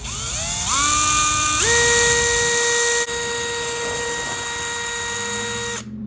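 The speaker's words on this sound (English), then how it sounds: "I need to drill it. I need to make the hole a little bit larger." A steady, high-pitched motor whine from a drill enlarging a hole in a brass fitting runs throughout, rising in pitch in two steps early on and cutting off near the end.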